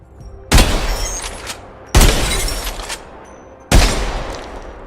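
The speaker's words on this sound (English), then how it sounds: "Damn, our sniper's loud." Three loud, separate sniper rifle shots in a video game, each a sharp crack followed by a long booming decay, spaced about one and a half seconds apart with quiet gaps between.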